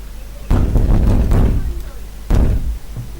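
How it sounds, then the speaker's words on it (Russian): Heavy, booming blows strike a door in a horror story sound effect, a cluster of loud thuds followed by another hard hit after a short pause, close and resonant over a low hum. "А в ту же секунду в дверь ударили."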